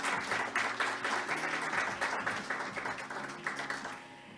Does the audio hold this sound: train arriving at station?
no